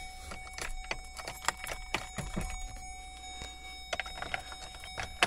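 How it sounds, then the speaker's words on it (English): Truck keys jangle and click as the key is wiggled back and forth in the ignition, a series of sharp, close metallic taps and rattles spaced irregularly over a quiet background. "This key, I always gotta wiggle it."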